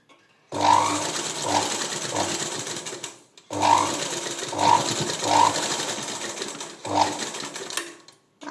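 An electric sewing machine stitches cloth for a dori hanging, running in three loud whirring bursts with brief pauses between them, the motor pitch rising and falling slightly within each run.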